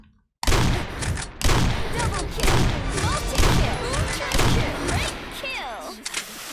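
AK rifle gunfire in the online shooter Sudden Attack, with loud rapid bursts of shots repeating in close succession, separated by brief pauses and trailing into quieter echoes.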